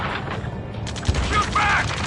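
Rapid gunfire and explosive impacts in the Ace Combat 7 video game, a steady barrage of shots with a sharp burst near the middle, mixed with voices shouting over the noise.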